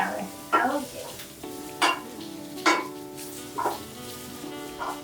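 Vegetables tossed in a hot pan, giving repeated bursts of stirring and scraping about once a second over a steady low sizzle, close and moderately loud.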